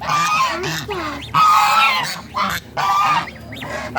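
Domestic ducks kept at a house and fed grass call in loud, close, repeated honking quacks that come in several bursts with short pauses between them.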